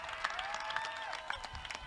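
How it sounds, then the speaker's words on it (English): An audience claps for the World Cup-winning Springboks during a presidential speech, a brief spell of scattered, moderately loud applause with ringing tones running through it. "we want to applaud you for that"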